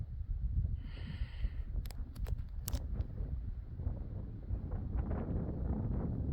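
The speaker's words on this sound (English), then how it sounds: "I don't know if you can hear the wind." Wind on a mountain trail among pine trees, a constant loud low buffeting roar on the microphone with a few brief faint clicks and rustles over it.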